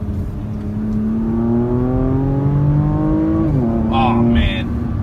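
A Porsche Macan GTS engine rises in pitch under throttle on a test drive, then drops sharply with a quick blip, heard from inside the cabin while voices briefly talk over it.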